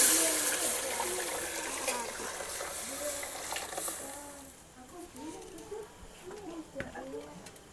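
Dal for dosa, made with onion and tomato, sizzles and fries in a hot pan. Loud, steady crackling at first gradually settles into a softer bubbling fry, with a few stirring scrapes near the end.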